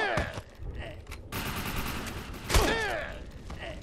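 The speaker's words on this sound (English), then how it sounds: "They're shooting where I was, which is pretty cool." Combat in the video game Defiance, with bursts of gunfire and loud explosive impacts amid dense, busy action, a heavy blast near the middle and whooshing, swirling effects after it.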